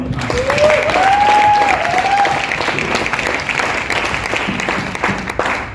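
A seminar audience at a herbal-products direct-selling business meeting bursts into loud, sustained applause for about six seconds, with a brief whistle-like tone rising early on and faint voices mixed into the clapping.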